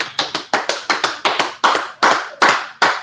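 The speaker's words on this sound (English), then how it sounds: "clap it up" Slow, deliberate group handclaps in a congregation setting at a biblical law class, about ten loud, evenly spaced claps near the listener with no talking.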